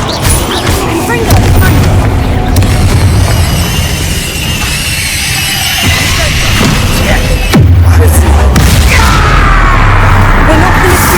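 Confringo fire-blast spell in the Hogwarts Legacy video game, loud booming bursts and crashes amid dense combat noise, with speech heard over the fight.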